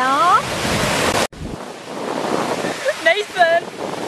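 Sea waves wash onto the shore at Highcliffe beach, heard as broad, steady surf hiss with wind buffeting the microphone, briefly cut off, then resuming as a quieter wash while children shout and talk over it.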